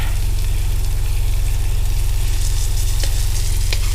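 Sockeye salmon fries in a pan inside a truck with a steady, close sizzle, while an idling engine hums low underneath throughout.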